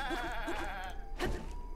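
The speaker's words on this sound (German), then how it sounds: "ich weiß nicht, was dieser Ziegenbock da macht" A goat in the video game Zelda: Breath of the Wild lets out a wavering, nasal bleat, loud and close, then a short rough burst follows.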